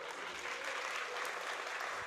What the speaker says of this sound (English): Can we have a round of applause for Ali, please?